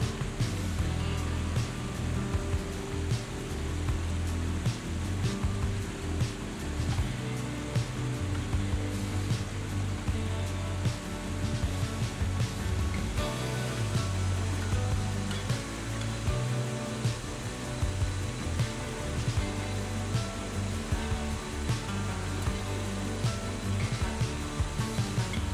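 A river flowing toward a waterfall in Thailand, a continuous, fairly faint rushing wash of water with a low rumble, steady throughout and no voices.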